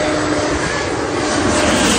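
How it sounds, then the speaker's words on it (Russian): Low-flying airplane on landing approach near the Washington Monument, a loud continuous engine roar that holds steady throughout, with no talk. "И летит самолет. Сейчас будет на посадку заходить."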